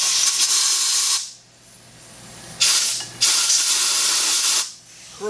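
Bursts of compressed air hiss loudly while old reused bolts from a Velvet Drive marine transmission are blown clear of residual crud: one long blast, a pause, then two more blasts of steady hissing.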